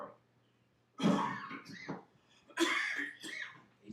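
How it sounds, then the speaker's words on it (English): A person coughs and clears their throat in two harsh bursts, close and fairly loud, in an otherwise quiet room. "so I got coughing fits"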